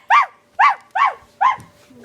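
A person imitates a dog with four rhythmic, evenly spaced barks, loud and close, each a short voiced woof sounding clearly human rather than canine.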